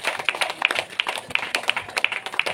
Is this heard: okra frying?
no